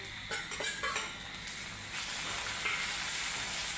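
Reddened onion with tomato sautéing in a pan, a steady hiss and sizzle throughout, with a few light utensil taps and stirring scrapes near the start.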